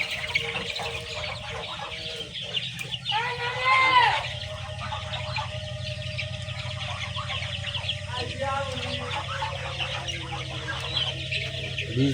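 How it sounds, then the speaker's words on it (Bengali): About 300 young chickens, aged from a few days to nearly a month, chirp and peep constantly in a crowded shed, a dense steady twittering with a voice sometimes audible over it. "এখানে 300 মুরগি বাচ্চা আছে এই ঘরে"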